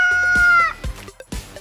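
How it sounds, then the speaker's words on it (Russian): A rooster crows once, loud and close, with a long harmonic call that breaks off, followed by a few short clucking sounds. "Петух – это папа."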